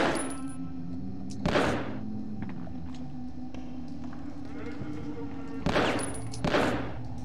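Gunfire in the World War II shooter game Medal of Honor Underground: a few sharp, loud shots in two clusters, near the start and near the end, over a steady low in-game hum and background noise.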